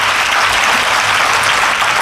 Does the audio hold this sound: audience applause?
yes